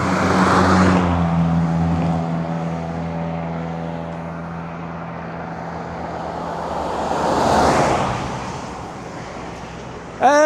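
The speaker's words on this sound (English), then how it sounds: "There's another 2 cars coming up the pass now." Cars climbing a mountain pass road in the Karoo, engines roaring up loud and close as a first vehicle passes, fading, then a second rushing by near the end, alone without talk.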